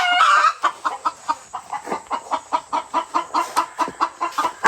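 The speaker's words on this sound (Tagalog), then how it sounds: "Ang manok." A chicken clucks close by in a rapid, steady series of short, repeated calls, loud and without any talk over it.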